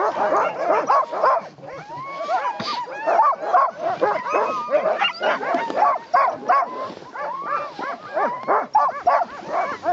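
A pack of sled dogs on Svalbard barks and yips excitedly and continuously, with whimpers and high yelps mixed in, close and loud throughout.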